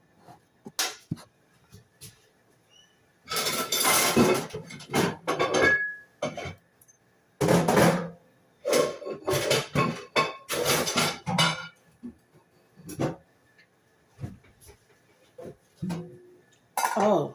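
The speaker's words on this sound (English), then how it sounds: "Let's start stirring these greens." Greens being stirred in a deep skillet over medium heat, irregular scraping and clinking of a utensil against the pan in short bursts, close and clear with quiet gaps.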